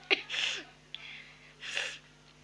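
Two sisters sneeze in a home, with sharp bursts of air and breathy gasps close by, over low background hum.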